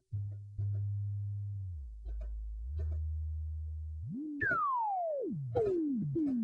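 Moog Rogue analog synthesizer with its filter self-oscillating into spacey tones: a low steady hum that dips, then rising and falling whistling sweeps and descending glides, heard alone and fairly loud.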